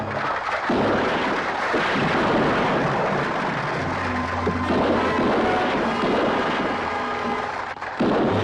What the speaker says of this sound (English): Sam, when I say go, start firing, but only over their heads, you understand?